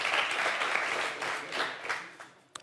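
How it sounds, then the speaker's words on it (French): Applause swells and then trails away in uneven bursts, growing sparser and quieter toward the end with a final isolated clap. "Oh, applaudissez pour ça, mon Dieu, elle est magnifique."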